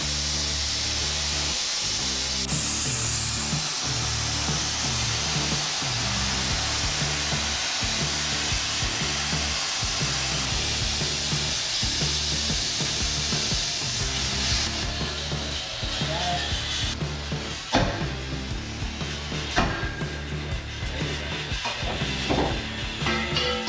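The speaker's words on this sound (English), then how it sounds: "It's gonna take us 5 minutes to torch that off there and grind it up." A cutting torch roars with a broad, steady hiss while a grinder works off leaf spring parts in a shop, with rhythmic grinding and scraping pulses underneath. The noise is loud and close and continues throughout.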